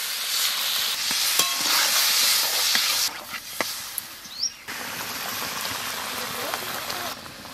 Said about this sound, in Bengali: হালকা জল দিয়ে দেবো